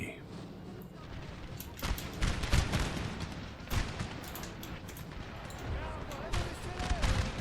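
Scattered musket volleys crackle across a Napoleon: Total War battlefield, sharp bursts of shots at a moderate distance over a low battle din, with someone talking between them.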